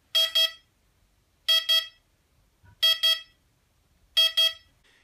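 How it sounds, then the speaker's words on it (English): Four pairs of rapid electronic beeps from a Mantis electronic speed controller entering programming mode, each pair a quick double chirp, repeating evenly about a second apart. "When you hear two beeps play rapidly four times in a row"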